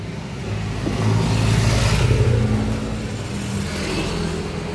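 A car engine revs as the vehicle arrives, its whir swelling to a peak and easing off, then rising again slightly. The sound is fairly close and continuous, with no talking over it.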